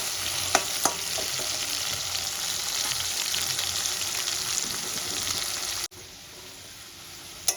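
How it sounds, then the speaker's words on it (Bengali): Potatoes fry in hot oil until reddish, giving a steady broadband sizzle with a few sharp pops near the start. Partway through the hiss drops abruptly to a quieter, thinner crackle, and a final pop lands just before the end. "এবার আলুগুলো আমি লাল লাল করে ভেজে তুলে দেব"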